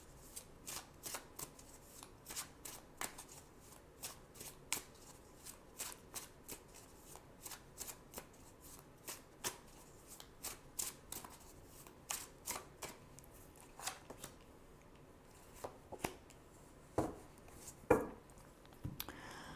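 Tarot cards shuffled by hand at close range, a long run of soft riffling flicks and snaps in an uneven rhythm, quiet against a still room with no talking.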